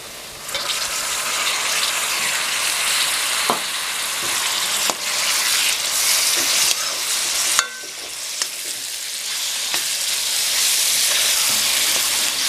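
Chopped tomatoes hit a pan of frying onions for a mutton curry, and the pan breaks into a loud, dense sizzle. Stirring clicks come through now and then, with no talking.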